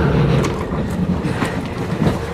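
Interior of a moving train carriage: a continuous low rumble with rattling and faint rhythmic clacks, fairly loud and close, with no talking.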